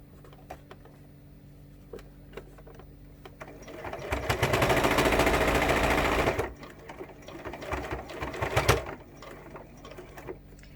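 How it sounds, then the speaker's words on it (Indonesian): A sewing machine topstitches bias binding on a landscape fabric pouch, with one loud sustained run of about two seconds in the middle and quieter mechanical clicks and handling around it. "Kemudian dijahit tindas seluruh bisbannya."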